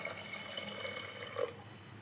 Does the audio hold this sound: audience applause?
no